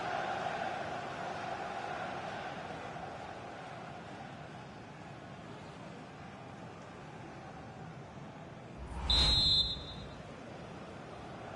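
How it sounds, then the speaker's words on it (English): At a Sunderland versus Arsenal football match, the referee blows a single short, shrill whistle to end the first half. It rises clearly above the steady, distant murmur of the stadium crowd. "So the referee's whistle, and that brings to an end the first half here in the northeast."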